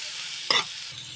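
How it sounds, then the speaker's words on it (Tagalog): Garlic and onion sautéing in a pan for bopis: a continuous close sizzle with one brief stir or scrape in the middle. "Gisa lang natin yung bawang."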